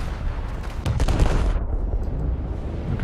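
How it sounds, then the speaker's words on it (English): Turret fire in a video game: a cluster of heavy gunshot bursts mid-clip over a constant low rumble, fairly loud and with no voices. "I should probably shoot the turrets."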